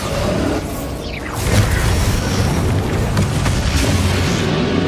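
Bombarda explosion spell from Hogwarts Legacy, a loud booming blast with a whooshing sweep, set in a dense, continuous battle soundscape that stays loud throughout.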